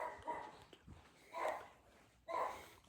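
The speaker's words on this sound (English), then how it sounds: "Sorry, that was my dog." A dog barks indoors in three short muffled bursts spaced about a second apart, heard at moderate distance in a quiet room.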